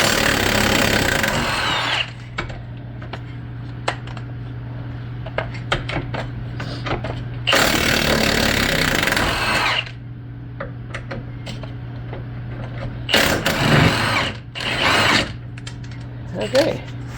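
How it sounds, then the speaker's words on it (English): An impact wrench works a 17mm nut under a 2003 Toyota Corolla S during axle replacement, with three loud buzzing bursts of about two seconds each separated by quieter stretches of small clicks and garage hum. "And that is a 17mm. I'll get my impact underneath there."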